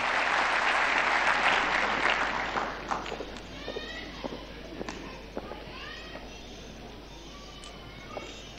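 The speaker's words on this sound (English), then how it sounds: "Let us give a big round of applause." Audience applause at a Utamaduni Day cultural celebration at Bomas of Kenya: loud, dense clapping for the first few seconds, then thinning to scattered claps and faint voices.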